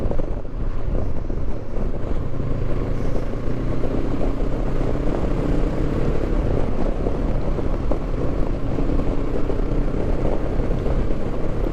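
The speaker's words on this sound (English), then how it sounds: "It's a bit of buffeting from the screen. It's making me visor rattle" Constant roaring wind buffets off a motorcycle windscreen at speed, making the rider's helmet visor rattle; a dense, unbroken low rumble runs steadily throughout with no speech.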